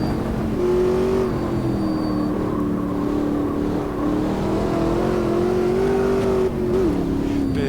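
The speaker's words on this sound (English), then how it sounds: "Big rumbly V8 under the bonnet as well. Makes a great noise." A big rumbly V8 race car engine revs hard in Automobilista 2, its loud, steady drone rising and falling in pitch through the whole stretch, close and continuous with no talking.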